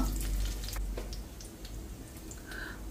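Dried red chillies and curry leaves frying in oil in a home kitchen pan, a soft, continuous sizzle with small crackles and pops close by, no talking.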